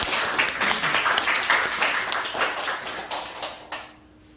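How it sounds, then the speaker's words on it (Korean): A church congregation at Sunday worship claps in welcome, a fairly full patter of hands that holds steady and then tapers off abruptly near the end. "우리 환영의 박수 한번 해주시기 바랍니다"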